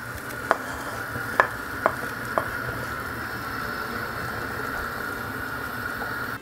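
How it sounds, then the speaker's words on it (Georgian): Already-fried onion sizzles with a spoonful of tomato paste in a pot for meatball soup, a steady soft hiss broken by a few sharp clicks of a spoon against the pan. "უკვე მოხრაკული ხახვი ტომატთან ერთად შეგვიძლია უკვე დავამატოთ."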